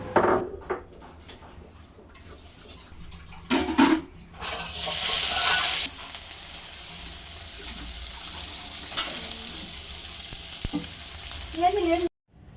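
Egg frying with green chillies in a pan: a steady sizzle with stirring and occasional clinks of utensils, with a louder burst of frying partway through and short stretches of quieter background.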